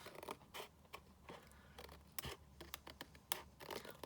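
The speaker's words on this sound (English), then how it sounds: "a long Papercraft scissors, and I'm just going to trim the extra bit off." Quiet, close snips and scraping as long papercraft scissors trim paper in short, irregular bursts.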